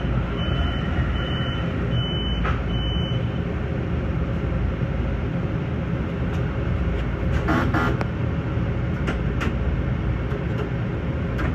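A Long Island Rail Road train leaving Brentwood toward Penn Station, recorded from behind the cab, gives a steady, loud rolling rumble throughout. A few short electronic chime beeps sound near the start.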